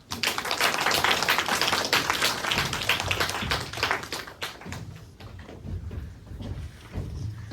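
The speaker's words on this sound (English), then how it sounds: "Please welcome our last speakers with a round of applause." An audience claps at a 2023 high school mathematics and science symposium, with a dense, loud burst of hand claps from many people. It thins out and fades after about four and a half seconds.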